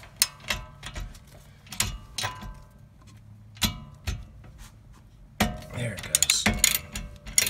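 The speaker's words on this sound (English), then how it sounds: "we're gonna come in from up top with a bigger wrench." Metal clicks and ratcheting from a wrench working a bolt on the rear wheel hub of a 2011 Ford Taurus, with sharp irregular clanks close by and a person talking briefly.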